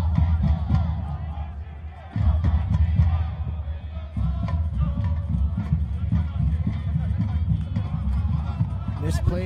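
Dense crowd noise from home supporters at a night college men's soccer match, GCU against Utah Valley early in the second half, a steady rowdy roar that holds throughout with a brief dip near the two-second mark.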